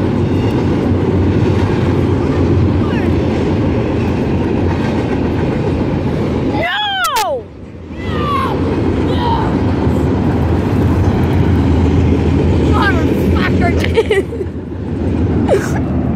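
Rail cars rumbling past in a steady, loud clatter that fills most of the stretch, broken by a brief squealing screech midway and a few softer squeaks later, with faint voices in the background.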